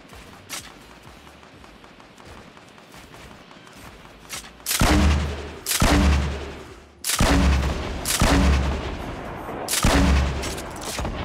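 Heavy video game gunfire plays in a fight against enemies, with a string of loud, booming bursts in the second half after a quieter stretch of scattered shots and background noise.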